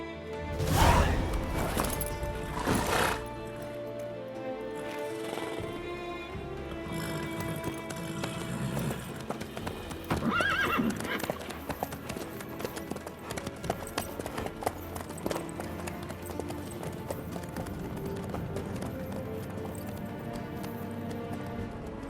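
Horse hooves clip-clop steadily and at close range throughout a long stretch of The Witcher 3 gameplay, with rhythmic footfalls mixed with occasional clatter and ambient game sound, no talk.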